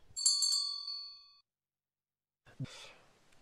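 A single bright bell-like notification ding rings out and fades over about a second, followed by silence and then a soft breathy sigh.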